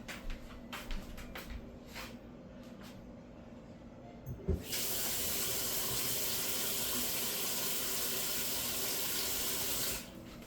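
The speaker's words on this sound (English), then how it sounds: "And then I'm gonna add a little water to this." Water runs steadily from a kitchen tap, a loud even rush that starts after a few seconds of clatter and keeps going until it stops near the end.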